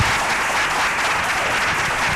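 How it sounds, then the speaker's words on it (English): Audience applause for a panel of producers at a business event: a steady, dense wash of clapping from a crowd, sustained loudly throughout without any voices over it. "Let's give our panel a round of applause."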